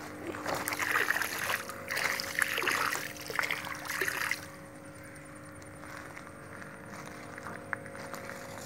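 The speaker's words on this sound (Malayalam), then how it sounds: "അപ്പോൾ നമ്മൾ സൊല്യൂഷൻ ഒഴിക്കുകയാണ് എല്ലായിടത്തായിട്ട്." EM1 solution is poured into a tarpaulin-lined fish pond stocked with pearl spot fingerlings, giving a few seconds of splashing trickle that stops abruptly, followed by a quiet outdoor hum.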